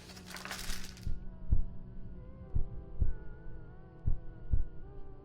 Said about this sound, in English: Slow heartbeat, but it could just be calm